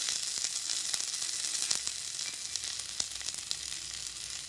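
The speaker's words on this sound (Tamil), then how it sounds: "வெங்காயம் நல்லா வணங்கட்டும்." Sliced onions fry in a pan for a gravy of bottle gourd and peas, giving a steady, soft, hissing sizzle with a few faint crackles and no voices.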